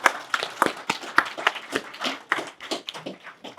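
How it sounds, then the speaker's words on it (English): Audience at a keynote speaker session giving a round of applause, sparse crisp claps from a modest crowd, fairly close and irregular, with no talking over it. "by all means, give him a clap"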